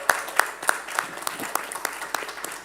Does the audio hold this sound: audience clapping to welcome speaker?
yes